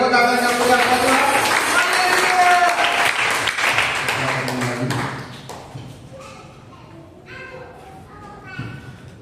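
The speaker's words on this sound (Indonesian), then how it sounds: "Berikan tepuk tangan yang meriah pada Tuhan." A congregation at a Sunday church service gives loud applause to God over music and voices. The clapping thins out after about five seconds, leaving sparse tones.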